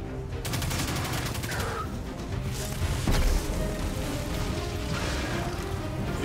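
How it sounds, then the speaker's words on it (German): A Destiny 2 grenade ability goes off amid steady sustained weapon fire, with a bright crackling burst early on and a heavier thump around the middle, continuous and fairly loud throughout. "Die Granate ist geil."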